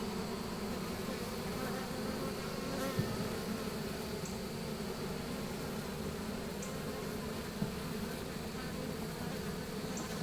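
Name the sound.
honey bees buzzing during hive inspection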